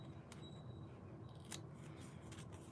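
Small kid-style scissors snip through sticker paper in a quiet room, a few soft, close cuts with faint crisp clicks and no talking.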